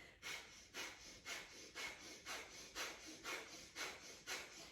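Short, sharp breathing exhales in a yoga breathing exercise, about nine evenly spaced forceful puffs through the nose, close and clear, with no talk.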